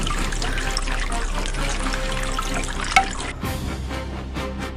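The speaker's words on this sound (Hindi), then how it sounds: "यहाँ का पानी किसने खोल दिया?" Water runs from an opened tap or water tank in a house at night, a steady splashing trickle that continues throughout, briefly interrupted by a small knock near the end, with no talking.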